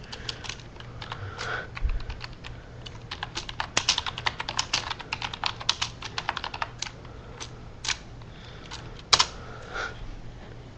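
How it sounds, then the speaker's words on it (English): Someone types a message on a computer keyboard, a quick uneven run of close key clicks with short pauses and a louder tap near the end. "I have to type another message."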